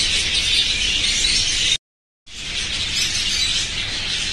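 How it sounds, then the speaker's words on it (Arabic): Caged songbirds in a bird shop in Baghdad chirp in a dense, steady chorus, close by, broken once by a brief moment of silence before the twittering resumes. "وجبه جديده من الطيور المغرده بشركه الاسطوره"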